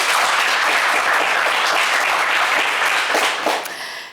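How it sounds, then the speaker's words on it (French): Studio audience applauding on a French-language TV game show, a loud dense burst of clapping that holds steady and then tapers off near the end. "On vous applaudit très fort."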